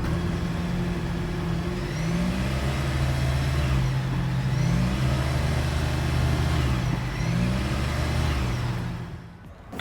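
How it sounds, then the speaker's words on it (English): Steady low engine rumble from the exhaust of a 2025 Toyota Corolla Hybrid, continuous and fairly loud throughout, with slight rises in pitch, then fading briefly at the end. "here is that exhaust clip."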